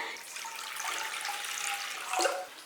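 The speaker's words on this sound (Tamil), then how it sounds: "இப்போ இந்த தண்ணி கீழே ஊற்றிடலாம்." Water poured off soaked sago (javvarisi) while making milk payasam, a steady close splashing stream for a few seconds that swells briefly near the end.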